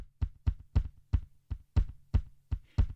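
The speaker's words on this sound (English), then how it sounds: "Let's add some delay." Evenly spaced bass drum thumps from the Redrum drum machine in Reason 5, around nine in a row, each followed by quick delay repeats that blur into the next beat.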